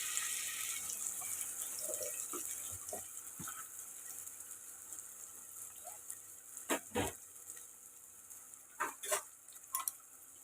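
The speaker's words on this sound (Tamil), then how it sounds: "வெங்காயத்தை ஆட் பண்ணி வெங்காயம் வந்து கொஞ்சம் ஓரளவுக்கு ப்ரௌன் ஆகிற வரைக்கும் நம்ம வறுத்துக்கலாம்" Three large sliced onions fry in hot oil for a paneer salna, giving a faint, steady sizzling hiss broken by a few soft clinks and stirring sounds.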